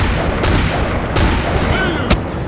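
Steady, chaotic gunfire in a video game, repeated shots overlapping into a continuous loud barrage with a few sharper cracks standing out.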